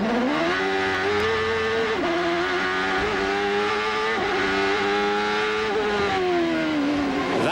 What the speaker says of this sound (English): That's where you see him fish for gears, and then he got the blast of acceleration.